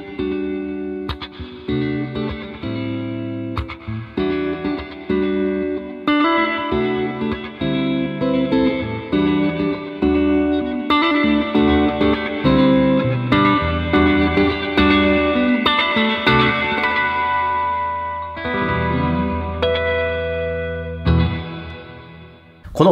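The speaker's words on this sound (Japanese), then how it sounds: "このプレートリバーブに関しては、まあ、" An electric guitar played through the plate reverb setting of the Yamaha THR amp app gives a washy, shoegaze-like tone: chords and single notes ring out with long, shimmering tails, loud and close, with no talking.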